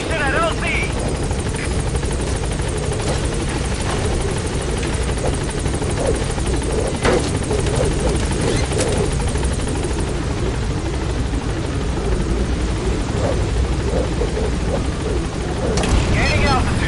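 Pequod, a helicopter in Metal Gear Solid V, thunders loudly and steadily throughout with a dense rotor roar, and voices talk over it.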